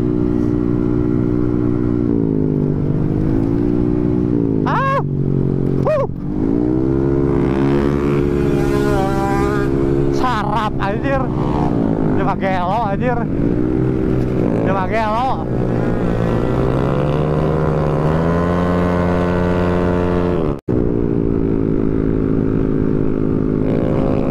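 Motorcycle engine on a cold night ride, revving hard with rising and falling pitch sweeps as it accelerates and drops off, loud and close throughout with a brief cut near the end.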